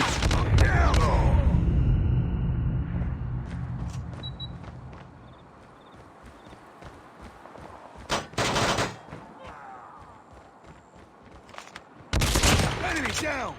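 Sniper rifle shots ring out in a video game battle, with loud bursts of gunfire at the start and two sharp volleys later, over a background of game effects and occasional speech.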